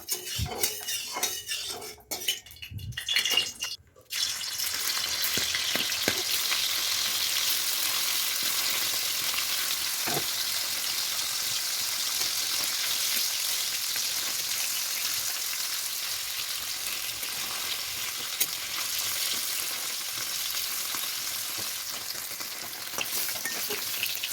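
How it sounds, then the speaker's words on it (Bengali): Paneer fries in hot oil in a kadai with a steady, loud sizzling hiss that lasts throughout, after a few utensil clatters at the start; no one speaks. "তারপর কড়াইতে তেল দিয়ে পনিরটাকে ভেজে নেব।"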